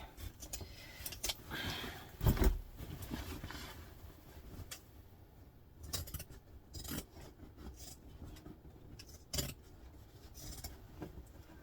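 Scissors snipping and rasping through handbag-making material, a series of irregular cuts and scrapes up close, with a louder thump partway through.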